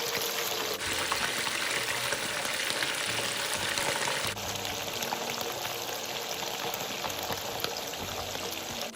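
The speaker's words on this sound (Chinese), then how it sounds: "取出腌渍了20分钟后的鸡翅小腿，放入油锅，像芋头一样过个油。" Marinated chicken wing drumettes frying in a wok of hot oil give a continuous close sizzle and bubbling crackle that shifts slightly in tone midway.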